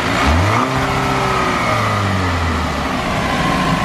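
A 2017 Chevrolet Camaro with a twin-turbo engine revs loudly and close, its pitch climbing and easing in a couple of throttle blips over a steady idle, with no talking.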